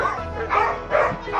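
Two quick barks from a dog ring out close by, loud and sharp, one after the other.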